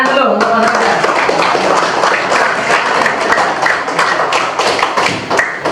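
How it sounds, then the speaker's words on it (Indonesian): Classroom of fifth-grade Islamic school pupils clapping for a classmate, a dense sustained patter of many hands close by, steady throughout with a few sharper claps near the end. "Tepuk tangan dulu untuk Mas Raja"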